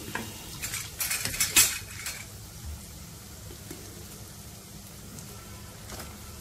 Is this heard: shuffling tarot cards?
no